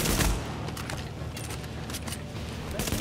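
Enemy gunfire crackles in The Division, a burst of rapid shots at the start followed by scattered repeated bangs and bursts over a continuous rumble.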